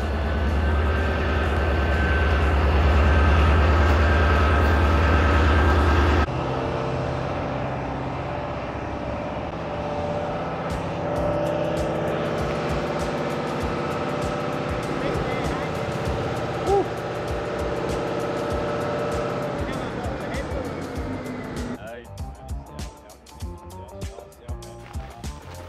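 A Caterpillar 794 mine haul truck on an Australian mine site raises its tray, a steady loud machinery drone with deep low rumble and sustained hydraulic whine, shifting partway through and easing into quieter clanks at the end.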